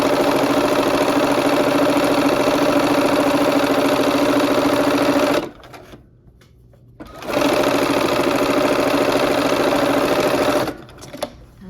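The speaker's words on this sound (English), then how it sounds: "then we will go back and sew that on the machine" A sewing machine stitches a quilt block seam with a loud, steady whirring drone in two long runs, separated by a brief pause.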